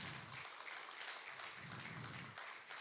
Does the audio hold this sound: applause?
yes